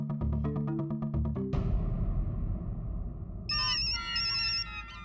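Telephone ringtone in a television sitcom scene: a short bright electronic melody first, a sharp hit, then a high warbling ring tone sounding twice, clear and fairly loud with little else around it.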